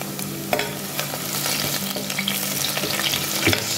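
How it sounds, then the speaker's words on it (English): Curry leaves hit hot oil for a South African Durban mutton curry, crackling and sizzling loudly and close, with sharp stirring clicks popping through the steady hiss. "Add in some curry leaves and just the tip of the stem."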